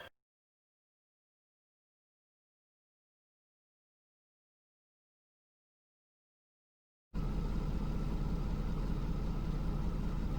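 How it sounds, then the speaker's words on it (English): A Ram pickup's engine runs at a steady, low idle, close and fairly loud, cutting in abruptly after a long stretch of silence. "now to start her up and take her for a test drive"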